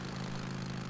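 A motorcycle engine idles without revving in the Days Gone video game, giving a steady, even low drone that holds throughout with no voices.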